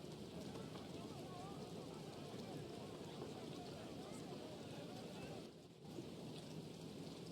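Steady rain falls throughout a rainy Madden NFL 25 football game between the 49ers and Seahawks, a dense continuous hiss with a brief dip near the end, under faint commentary.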